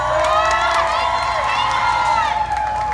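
Rodeo crowd cheering and yelling during a mutton bustin' sheep ride, a steady loud roar of many voices with whistles and shrill shouts sustained throughout.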